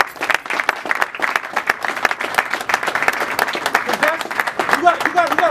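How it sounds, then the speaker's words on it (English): A gathering at a Philadelphia real estate event breaks into a dense, sustained round of clapping, steady and loud throughout, with a few voices calling out over the applause toward the end. "I want everybody to give a round of applause for all of ourselves for coming out"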